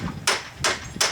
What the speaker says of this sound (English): Let me stop using the soft hammer.